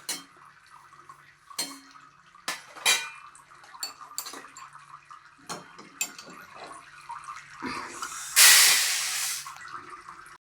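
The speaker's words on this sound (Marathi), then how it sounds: "आपण ते आता एका प्लेटमध्ये काढून घेऊया" Dry-roasted green moong beans are moved from a pan onto a plate, with sharp metal scrapes and clinks of a spoon against cookware, then a brief louder hissing rush of grains near the end.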